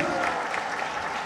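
Audience at a Youth Parliament 2025 seminar applauds to welcome chief guest Yusuf Raza Gilani, a dense, steady round of clapping from a hall crowd that fills the whole short moment at even loudness.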